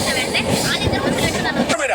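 A train at a railway station, its steady broadband rumble and rail noise filling the scene loudly and continuously, with people talking over it.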